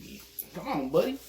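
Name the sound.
dog whimpering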